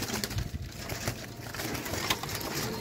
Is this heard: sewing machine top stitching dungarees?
no